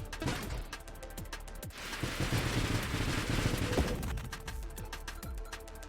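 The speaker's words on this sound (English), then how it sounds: "crazy missiles" Missiles fire in rapid bursts in the space shooter Nova Drift, a fast ticking stream of small pops over a dense whooshing roar of explosions that swells in the middle and then thins out, with no talking.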